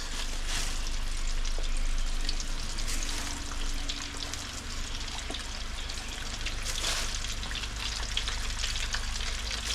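Classic unsauced chicken wings frying in hot oil, a steady loud broadband sizzle with crackling pops running continuously throughout, no talk over it.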